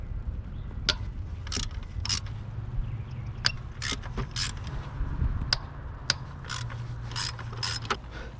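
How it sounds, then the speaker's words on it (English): A ratchet loosens 10mm bolts on a 4th-generation Toyota 4Runner V6 engine during a spark plug change, giving repeated close, sharp clicking bursts over a low steady background hum. "Loosen your 10mm bolts."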